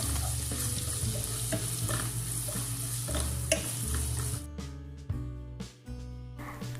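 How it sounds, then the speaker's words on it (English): Ginger garlic paste sautéed in butter and sunflower oil, a continuous close sizzle with scattered stirring scrapes over a low hum, then a quieter patchy stretch with short clinks toward the end; no voices. "Add ginger garlic paste and saute until the raw smell is gone"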